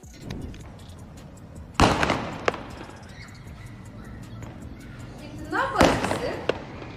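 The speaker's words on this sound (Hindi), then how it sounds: "ड्रोन को भगाने के लिए पटाखे जला देता है।" Two loud sharp bangs a few seconds apart cut through steady background noise, each followed by crackling, like firecrackers going off outdoors.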